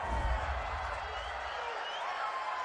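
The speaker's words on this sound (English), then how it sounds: "This home crowd, they're happy with that call" A home stadium crowd at an NFL game between the Pittsburgh Steelers and Arizona Cardinals roars in a broad, sustained wash of cheering after a penalty call, loud and continuous with voices blended in.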